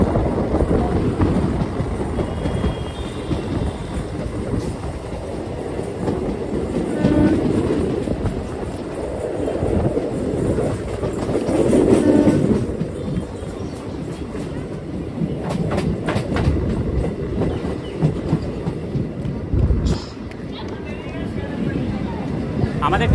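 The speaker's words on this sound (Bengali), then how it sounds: "আমাদের ট্রেনটা এখন ছেড়ে দিল হচ্ছে পূর্বস্থলী রেলওয়ে স্টেশন থেকে" A Sealdah–Katwa local train pulls out of Purbasthali station, wheels clattering steadily on the rails with a continuous loud rumble, while a voice talks over the noise.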